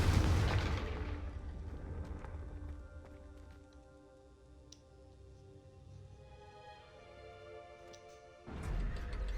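Confringo fire spell in the Hogwarts Legacy video game: a loud, rumbling burst at the start, a quieter stretch with soft tonal music, then another heavy blast at the end.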